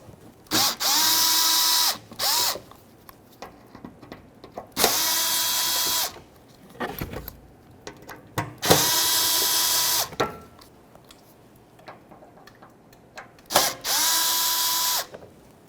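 A power drill spins out Phillips head screws on a Nissan Frontier during AC condenser replacement, four separate whirring runs of about one to two seconds each, with ratcheting clicks and tool handling in between.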